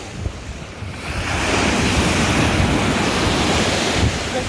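Big ocean waves at Far Rockaway Beach crash and roll in a loud, continuous roar mixed with strong wind buffeting the microphone, close by and with no talk.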